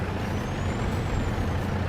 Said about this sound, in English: Let me get this truck out of the way.